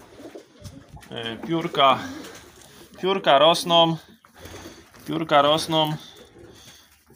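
Pigeons cooing in a breeding loft, repeated soft throaty coos in three distinct bursts close by, mixed with someone speaking.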